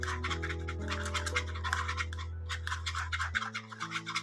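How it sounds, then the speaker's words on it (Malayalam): Homemade plain aloe vera gel with a preservative being stirred in a container: rapid scraping and rubbing strokes in an uneven rhythm, close and fairly quiet, over a low steady hum. "ഇനി നമുക്കിതിനെ നന്നായിട്ട് മിക്സ് ചെയ്യാം."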